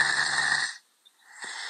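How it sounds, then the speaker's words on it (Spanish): A five-year-old child snores deeply, close and loud. A long rasping inhale is followed by a silent pause, then the next snore begins. "este niño está roncando muy profundamente"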